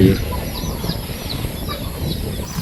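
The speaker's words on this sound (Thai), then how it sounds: "ทั้งเป็ดทั้งไก่" Chickens cluck intermittently in the background amid outdoor ambience at a campground in Sa Kaeo, Thailand, with faint voices nearby.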